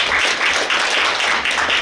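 A crowd applauding, dense steady clapping from many hands for a couple of seconds.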